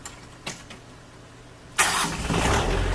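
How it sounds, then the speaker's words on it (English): A Bobcat tractor engine starts: a couple of faint clicks, then the engine cranks and catches with a sudden loud roar that settles into a steady, close idle. "So I'm going to go ahead and start the tractor."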